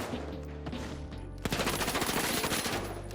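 Rapid automatic gunfire in the firing range of the video game The Finals, a loud continuous burst of closely spaced shots with sharp attacks, steady and close with no talking.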